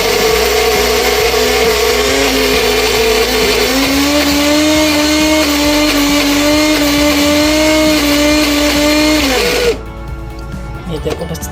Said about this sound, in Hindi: ये मुकम्मल दाल ग्राइंड होगी हमारी